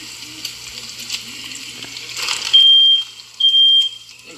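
A smoke alarm beeps in a kitchen while food sizzles and fries, with two long, loud, steady high-pitched tones sounding close by over the frying hiss.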